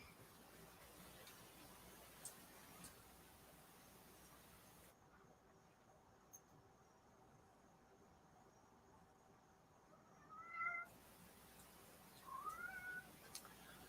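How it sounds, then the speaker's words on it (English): A cat meowing in short, faint calls near the end, over a steady chorus of crickets and low room hiss, with a brief drop to near silence before. "Yes, that was a kitty."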